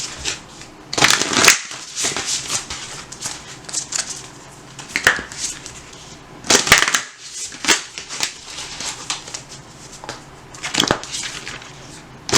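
A deck of tarot or oracle love cards is shuffled by hand in repeated riffling bursts, crisp papery flutters and soft slaps recurring every second or two, close and fairly loud with no talk.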